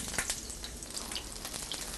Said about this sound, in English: I'm ready to start frying my eggplant now